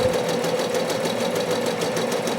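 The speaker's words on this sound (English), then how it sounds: "I slowed the machine all the way down to 400 RPM" An embroidery machine stitches a beanie at a slow 400 RPM, giving a steady, continuous mechanical whir with fast, even needle pulses. It runs alone and close by, with no talk.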